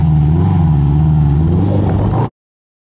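A 1973 Honda CB350Four four-cylinder motorcycle engine runs loud and close with a steady, throaty drone and slight rising rev, then cuts off abruptly into silence after about two seconds.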